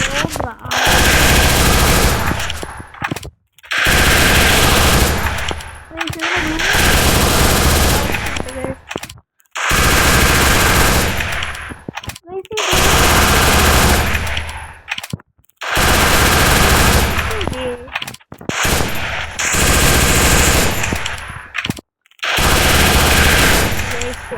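Rapid automatic gunfire in a video game, fired with a gun skin in long loud bursts broken by short gaps, close and harsh, with a voice partly under the shots.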